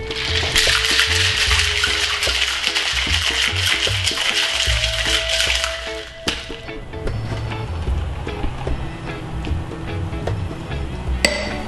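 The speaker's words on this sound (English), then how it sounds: "right now, we're gonna shake it." A coconut margarita rattles in a cocktail shaker, with dense rhythmic ice clatter for about six seconds, then quieter clinks and handling knocks, close and fairly loud without speech.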